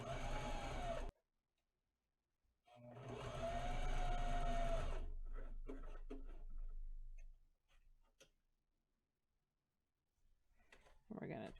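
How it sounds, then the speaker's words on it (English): Close, loud runs of a sewing machine stitching along the edge of a fabric mask: a brief burst, a longer steady run of several seconds, then scattered clicks and a final short start, with talking in between. "Just stay on the edge and then just keep sewing."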